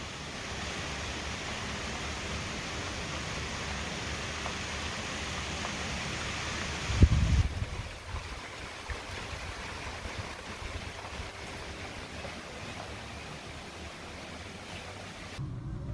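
Rain falls steadily as a continuous, even hiss with no voices. A brief low bump comes about halfway through, and afterwards the hiss is slightly quieter.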